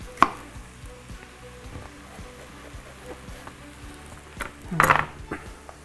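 A knife cuts slits into eggplants for İmam Bayıldı, giving soft, scattered clicks and taps on a board with a sharper knock near the start and a louder cluster of cuts toward the end.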